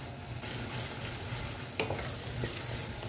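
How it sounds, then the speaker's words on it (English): Onions frying and being stirred in melted palm oil in a pan, a quiet steady sizzle with soft scraping strokes and a couple of brief clinks, close and alone without talk. "Once it melts, add the onions. Stir for a bit."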